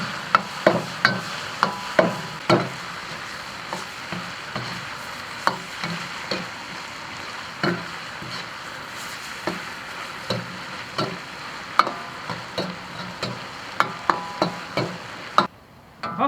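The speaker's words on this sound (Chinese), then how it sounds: "再炒一下就可以了" Beef lung and trachea with green chili tossed in a wok: a steady sizzle under repeated clacks of the spatula scraping and stirring, close and fairly soft.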